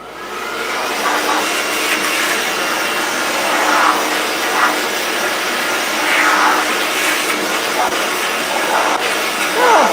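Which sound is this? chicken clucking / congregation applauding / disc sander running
disc sander running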